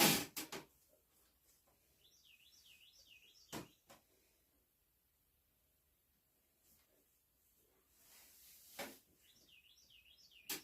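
A wild bird calls outdoors in two faint bursts of quick, repeated warbling chirps, separated by a quiet stretch, with a few sharp knocks and clicks nearby.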